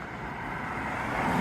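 Road traffic rushing by along a stretch of road, a faint, continuous broadband roar that swells slightly toward the end.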